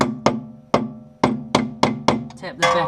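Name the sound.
hammer tapping metal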